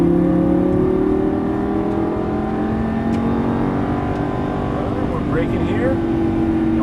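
A Lamborghini Gallardo LP550-2 drives through a corner on a track and accelerates out of it, its engine note climbing steadily and loud. An instructor talks over it throughout.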